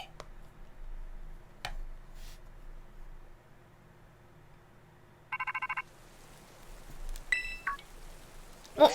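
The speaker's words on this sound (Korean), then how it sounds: "전화 왔다." A phone rings in the Pokémon Violet video game, a short burst of electronic ringing tones over quiet game background sounds, with brief faint chimes around it.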